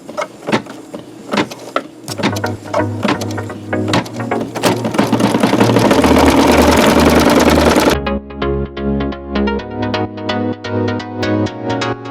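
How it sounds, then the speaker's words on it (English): An embroidery machine stitches a patch in a 4x4 hoop, running as a loud, steady, rapid mechanical whir. The motor pitch shifts partway through as the needle keeps pounding in a fast, even rhythm, with no talking. "Now I can sew. Foot down and go."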